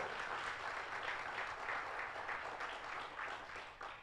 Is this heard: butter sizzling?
no